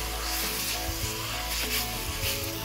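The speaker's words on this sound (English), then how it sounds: "turn the heat up, and then what you're doing here is you're browning the meat" New Zealand lamb sears in a hot pan, giving a loud, continuous sizzle with occasional stirring and scraping sounds close by, and nobody speaking.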